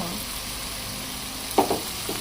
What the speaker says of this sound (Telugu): దీంట్లో కొంచెం అల్లం వెల్లుల్లి పేస్ట్ వేస్తున్నా.